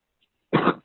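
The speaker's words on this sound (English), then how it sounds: "I got a cough" A single sharp cough from one person, short and close, following a moment of silence.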